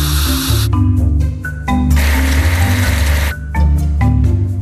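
Steady hissing water spray washing a big off-roader in a mobile building game, loud and continuous with brief gaps, layered over bright game music.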